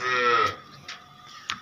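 A Friesian cow crossed with a foreign breed, offered for sale in Pakistan, lets out one loud, close moo that stops abruptly, followed by a few faint clicks and knocks.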